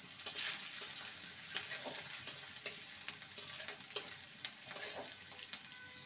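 Chopped onion frying lightly in hot oil, a soft, continuous sizzle punctuated by repeated light ticks and scrapes of a spatula stirring at a quiet, close distance.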